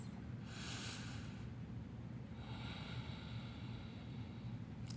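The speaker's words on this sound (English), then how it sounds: "Last big breath. Exhale it out." Deep, slow yoga breathing, a long airy breath swelling near the start and another easing out later, close and soft against a faint steady background hiss.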